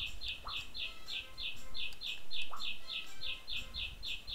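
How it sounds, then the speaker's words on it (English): A bird chirps in the farming video game Harvest Moon 64: quick, high, evenly spaced tweets repeat throughout, with a couple of short rising calls over soft background ambience. "Damn bird!"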